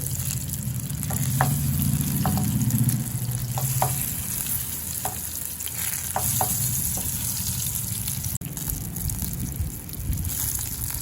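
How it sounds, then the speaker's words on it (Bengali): Eggplant slices fry in a pan with a dense, steady sizzle and a few sharp crackles and pops, with a low rumbling hum early on. "খুব ভালো করে বেগুন ভাজা হয়ে গেছে।"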